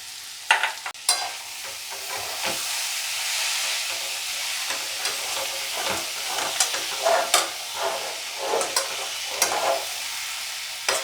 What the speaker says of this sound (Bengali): আর একটু ভাজা ভাজা করে দিই সব।